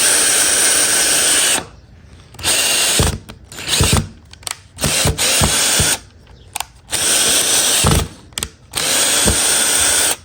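A power drill drives a screw into a piece of hard scrap wood in loud bursts. The motor whines in several separate runs, with clicks and knocks in the short gaps between them.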